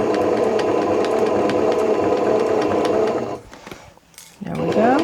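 A sewing machine runs steadily through thick layers of fabric while stitching a project bag, a close continuous whirring hum that stops briefly near the end before a short burst of speech.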